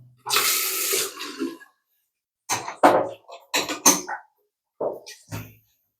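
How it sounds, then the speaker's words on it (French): Water pours briefly in a furnished apartment's bathroom, with a gushing burst at the start, followed by scattered knocks and short bumps; quiet gaps between them. "L'eau coule."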